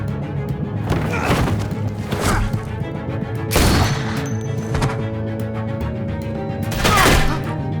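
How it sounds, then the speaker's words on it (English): Heavy bursts of video game gunfire and sharp thuds crack out repeatedly over a dense rumbling background, with loud volleys recurring every couple of seconds. "I hear gunfire."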